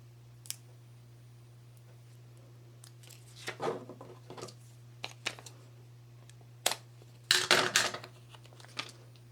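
Several short snips and crisp clicks as dimensional foam adhesive pads are cut in half with scissors for card making, scattered and faint over a steady low hum, with a denser cluster of cuts near the end.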